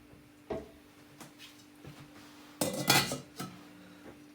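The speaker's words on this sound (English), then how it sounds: "I'm gonna grate this piece of a ginger now" A piece of ginger rasped against a metal grater, a few short scraping strokes followed by a louder, denser burst of grating near the end, close and fairly quiet with no talking.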